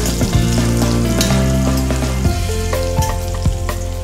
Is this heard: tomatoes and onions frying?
yes